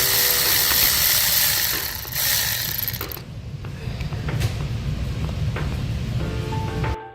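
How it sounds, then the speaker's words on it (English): Air ratchet whirring and clicking while loosening spark plugs on a Ford F-150 engine, with a loud broadband burst over the first three seconds and quieter mechanical rattles and ticks after. "then you guys can air ratchet or electric ratchet right here"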